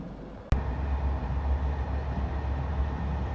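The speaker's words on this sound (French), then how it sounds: "C'est vraiment le premier train, quoi, genre." Budapest metro train on its first morning run, a steady low rumble of the moving carriage after a sharp click, close and continuous with no talking.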